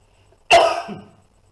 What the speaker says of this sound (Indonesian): maaf agak sedikit batuk